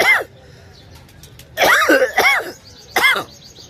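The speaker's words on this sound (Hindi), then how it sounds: "थोड़ी खांसी भी है" A man coughs and clears his throat in several short, harsh bursts: one alone, then a quick cluster of two, then one more, close and loud with quiet between.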